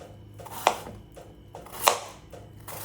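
Raja kilangu tuber being cut with a knife, two crisp chopping strikes about a second apart over quiet background.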